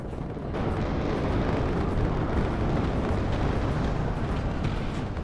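Explosions from a bombing run in the strategy game WARNO rumble in a loud, sustained wall of overlapping blasts that swells after a brief opening and holds to the end.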